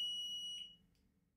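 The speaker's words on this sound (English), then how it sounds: "If you simulate a high water alarm, you will now receive a text message warning from the pit boss." A cellular sump pump alarm, triggered as a simulated high-water warning, gives one loud, piercing electronic beep close by. The beep holds steady, then fades out quickly.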